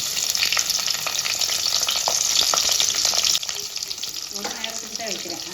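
Onions fry and sizzle in a pan for vegetable kurma, a loud, close, steady crackle. Stirring scrapes run through it, and the sizzle drops in level partway through.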